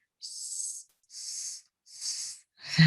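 A voice makes three breathy hissing puffs in an even rhythm, imitating air being pumped, to demonstrate the Arabic letter sad in Quran recitation, followed by the start of speech.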